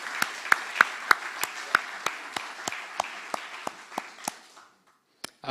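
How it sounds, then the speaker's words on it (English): Applause at an awards ceremony: sparse, evenly spaced claps, sounding like only a few people, ring out in a steady rhythm, fade gradually and stop, with a couple of stray sounds after. "If we could have another round of applause, that'd be wonderful."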